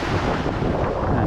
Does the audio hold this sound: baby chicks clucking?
no